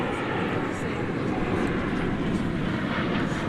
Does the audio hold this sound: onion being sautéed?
no